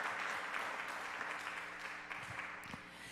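Sustained audience applause at a Green Team Summit gathering, a dense steady wash of many hands clapping from start to finish with no voices over it.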